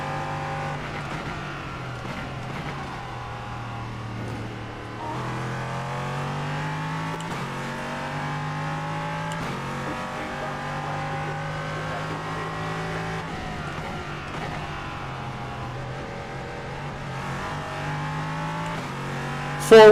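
Simulated LMP3 race car engine lapping Bathurst in the iRacing sim, a steady droning engine note rising and falling through gear changes for the whole stretch, with no talk over it.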